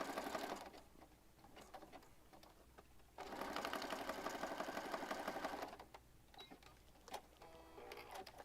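A sewing machine stitches through junk journal paper in bursts, with rapid close mechanical needle chatter, the longest run in the middle, separated by pauses and small clicks as the paper is rotated.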